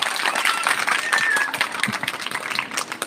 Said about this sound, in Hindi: एक बार जोरदार तालियां इन बच्चों के लिए।